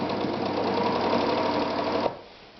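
Victoria 124 sewing machine running a test stitch: a loud, rapid, steady mechanical whirring hum close by that stops abruptly after about two seconds, leaving a faint background.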